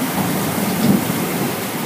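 Thunder rolls through a heavy thunderstorm with a constant loud wash of rain, forming a dense, unbroken roar with no voices.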